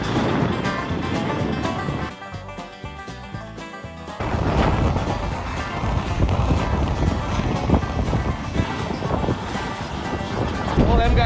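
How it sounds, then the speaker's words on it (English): Strong wind roars and buffets the microphone continuously, a loud, rushing broadband noise with gusty swells throughout. "it's windy as hell"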